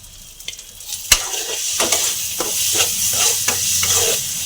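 Spice paste with Kashmiri chili frying in oil for a prawn and pointed gourd curry, sizzling steadily while a spatula stirs with several distinct scraping strokes, close and alone.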